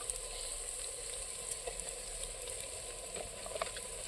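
Mutton sizzles quietly in a pan over a wood fire outdoors, a faint, even crackle with occasional soft pops, heard close but low in level and without speech.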